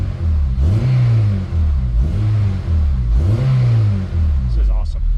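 An 8th-gen Honda Civic Si with a light flywheel, new engine mounts and a new clutch gives three quick, loud throttle blips, each rising and falling in pitch, close by.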